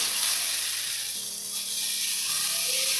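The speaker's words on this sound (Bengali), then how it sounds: "এখানে দেখো মশলাটা আমার কষানো হয়ে গেছে" Spice paste sautés in a pan with a steady, bright sizzle and hiss that swells and eases slightly, while a faint tonal hum runs underneath.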